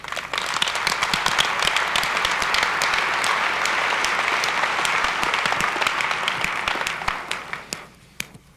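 Audience applause at a corporate IBM software group session in Dubai, a dense, steady wash of clapping that holds for about seven seconds before thinning out into a few scattered final claps.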